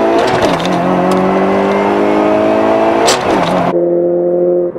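In a drag race, a 290 hp Subaru Legacy with a 2.0L EJ20X and a 1.3L Turbo Starlet on 1.2 bar boost scream close by, the engine pitch climbing, dropping at a gear change and climbing again before cutting off abruptly.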